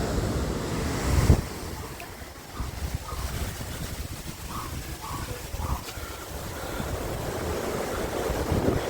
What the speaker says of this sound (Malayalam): ശക്തമായിട്ടുള്ള തിരമാല അടിക്കുന്നത്